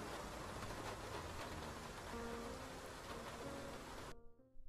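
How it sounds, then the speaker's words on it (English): Night rain falling steadily in the video game Face Noir, a dense, even hiss of drops with faint tonal music beneath, cutting off abruptly near the end. "A night spent under the rain makes even this grubby old cab seem welcoming."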